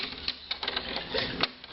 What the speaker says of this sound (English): Then you lock your door twice.